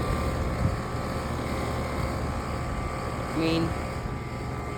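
An air conditioner fan, about four years old, spins with a steady, loud whirring drone that runs throughout, while a person speaks briefly over it.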